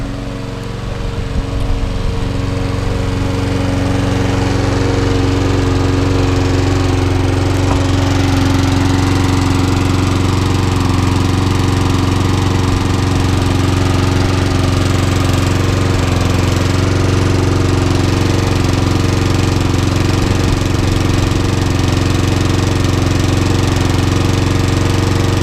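An old trash-picked lawnmower engine runs steadily and loudly for the whole stretch, a rough, throbbing drone with a slight knocking edge and no voices over it.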